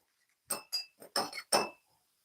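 Glass clinks and taps as a solution is stirred in a glass container during a chemistry practical on energy changes, five or six sharp knocks in quick succession, close and alone.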